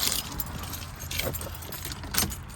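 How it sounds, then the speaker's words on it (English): A bunch of keys jangling up close beside a boxy Chevy car, several quick metallic clinks in short bursts over a low steady background rumble. "Got my keys on me."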